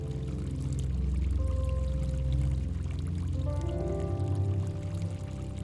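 Water runs steadily in the abandoned Sunsplash indoor swimming pool at Butlin's Minehead, a loud, continuous rushing pour with a humming tone layered over it and no voices.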